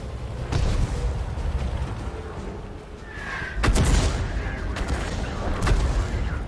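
A tank video game fires its cannon several times, sharp booming shots with mechanical clanks and rumbling in between, at close range, with no one talking.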